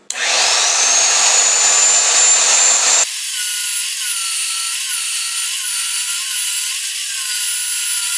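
A loud, steady grinding whine of a magnetic drill boring into steel, its bit oiled, shifting partway through to a smoother, higher-pitched cutting tone that continues evenly.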